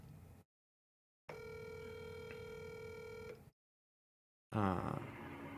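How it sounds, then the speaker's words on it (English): A telephone call rings out toward voicemail, with a steady ringback tone between stretches of silence and a burst of line noise at the end. "No, voicemail. We got voicemail from our friend TJ."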